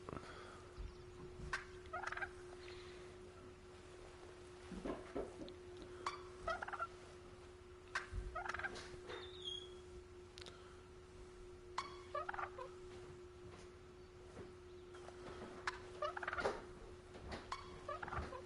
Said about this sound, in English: Sounds like more than one turkey we got here.